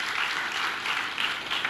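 A church congregation at a worship service claps together in a dense, lively burst of applause that stays loud and sustained throughout, with no voices rising above it.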